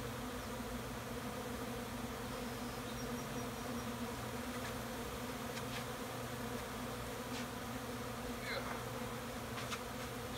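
Honey bees buzzing steadily around a backyard beehive, a dense continuous drone close by with occasional individual bees passing nearer, with no talk.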